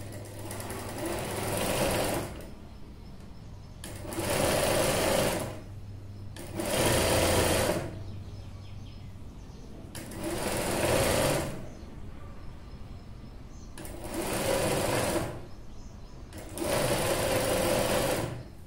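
A sewing machine stitches a boat neck dress with thread piping in six separate bursts of rapid whirring, each a couple of seconds long, broken by quiet pauses while the fabric is handled.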